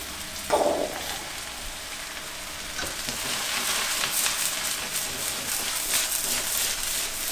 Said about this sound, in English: it's a lovely like muted sizzle